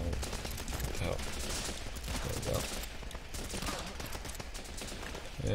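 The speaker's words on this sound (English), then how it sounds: "Let's get the sniper rifle out." Rifle fire from a sniper rifle in the video game Running with Rifles, heard as a steady spread of gunshot crackle amid dense battlefield noise, with a few sharper reports standing out.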